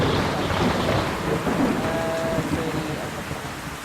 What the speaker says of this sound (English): And another thunderstorm, great.